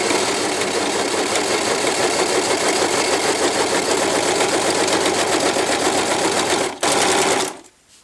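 A sewing machine runs fast and continuously, stitching thick, sturdy cotton fabric with a dense, steady mechanical whir up close, then stops abruptly near the end.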